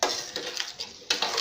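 Mutton curry being stirred in a pot, heard as a few quick metallic scrapes and clinks of a spoon against the pot, close and brief, with no voices.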